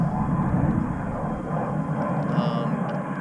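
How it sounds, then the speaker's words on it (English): Fighter jets roar steadily overhead as a continuous, loud, broad engine rumble over open water, holding through the whole stretch with no talk. "So we got fighter jets flying over us."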